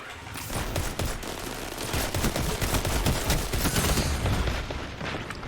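Sustained automatic rifle fire in a video game, a dense run of rapid, loud shots that keeps going for several seconds without a real pause.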